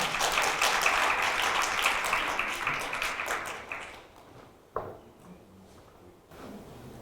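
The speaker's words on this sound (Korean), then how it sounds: "따뜻한 박수로 맞아주시면 감사하겠습니다." Audience applause rises and fades at a KBS drama production press event as a speaker is welcomed onto the stage, a dense patter of clapping that thins out into scattered claps and quiet.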